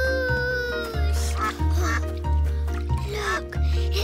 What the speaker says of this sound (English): Look, it's ducks, Hoppity.